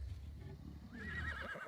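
Horse neighing in a multiplayer video game, a single whinny with a faint clip-clop of hooves.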